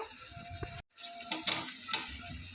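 Potato and soy pieces fry in oil for pulao, a soft crackling sizzle marked by a few scraping stirs and light clicks, with a brief dropout partway through.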